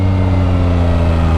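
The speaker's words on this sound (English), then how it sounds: "blipping the throttle when I'm trying to go down" Yamaha MT-09 SP motorcycle engine blipped on the throttle, a steady loud mid-pitched rumble held briefly at raised revs, close and on its own.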